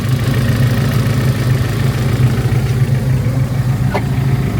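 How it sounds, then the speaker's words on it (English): A turbocharged Honda drag car engine idles at a drag racing event at Santa Pod, a loud, steady, throbbing low rumble close by with no voices. "There is the Honda, turbo Honda engine."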